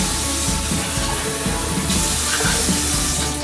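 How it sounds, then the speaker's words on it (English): Water is poured into a glass tomato sauce jar, a close, steady splashing and trickling stream that runs without a break. "What I'm going to do is I'm going to add about a half a cup of water to this jar."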